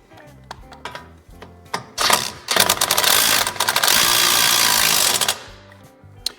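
An impact or ratchet tool tightens the 15 mm pinch bolt nut on a Moog upper control arm ball joint of a Ford Ranger / Mazda B4000, a few clicks followed by a loud sustained mechanical rattle lasting about three seconds.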